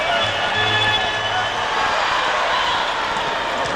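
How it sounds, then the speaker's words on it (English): A basketball arena crowd at a 1992 NBA playoff game between the Bulls and Cavaliers rises into a steady roar, loud and continuous, with a commentator talking over it. "this crowd, which has been quiet for a long time, starts to make some noise"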